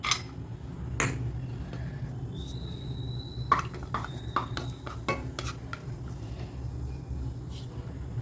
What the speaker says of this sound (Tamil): காயட்டும் முந்திரி பருப்பு வறுத்துக்கலாம்